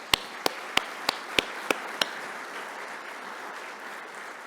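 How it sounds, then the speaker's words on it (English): Audience applause for the board at a conference keynote, a steady crowd clapping throughout, with a few loud, sharp claps from one person near the microphone standing out in the first two seconds. "I really want to thank them and give them a round of applause."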